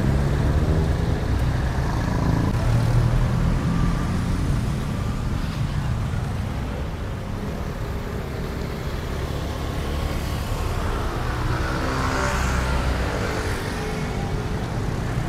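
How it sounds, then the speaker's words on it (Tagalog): Road traffic on a busy Philippine street near a minibus stop: a dense, steady rumble of passing cars, trucks and buses with engine drone and wash, loud and continuous, a faint voice now and then beneath it. "Traffic, diba?"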